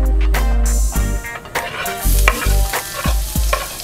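Garlic sizzles loudly in hot cooking oil for tofu sisig while a utensil scrapes and stirs the pan in close, uneven strokes under a steady frying hiss.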